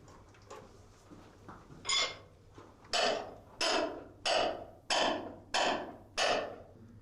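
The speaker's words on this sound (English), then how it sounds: "So that drill right there is over 140 years old." An antique hand-cranked rock drill over 140 years old strikes in a steady rhythm, about six sharp, bright metallic impacts roughly every two-thirds of a second after a few quieter taps, fairly close.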